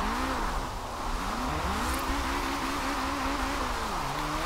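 A car engine in Forza Horizon 4 revs hard toward redline while racing around a roundabout, its droning pitch rising and falling through repeated climbs as the throttle is worked, loud and continuous.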